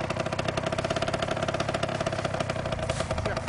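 Motor engine running at a steady, rapid pulsing idle, loud and close, with a continuous rhythmic chug and no voices over it.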